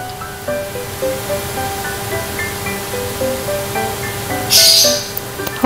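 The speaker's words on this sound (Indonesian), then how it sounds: "Dan ini tempatnya mau aku cuci si wajannya." Tap water runs steadily and loudly while a wok is washed, a continuous close splashing hiss with a few faint clinks and a brief brighter spray near the end; no talking.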